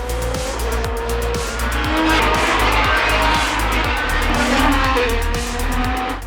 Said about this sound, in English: The sound of the cars driving by.